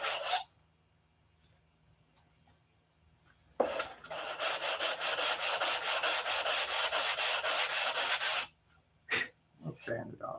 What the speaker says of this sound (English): I'll sand it off.